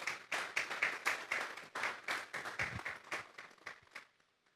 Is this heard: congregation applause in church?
yes